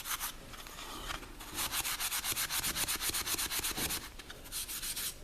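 Wire wool rubbing wax into a softwood tray, a raspy scratching in quick back-and-forth strokes, steady and close, with short pauses between passes and no talk.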